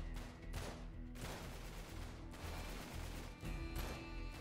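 Enemy gunfire in the action game Uncharted 3 Remastered, bursts of rapid shots and sustained firing in waves with brief lulls, dense and continuous, heard quietly without talk.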